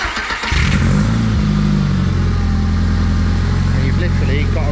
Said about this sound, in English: I think this one will be fuel pump, and then this will start it up.